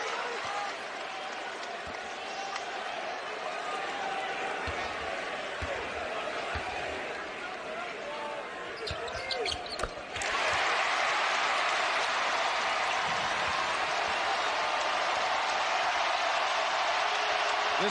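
A big home crowd in a college basketball arena, Texas Tech against Texas, keeps up steady applause and cheering that surges sharply louder partway through, with a commentator's voice faintly over the roar.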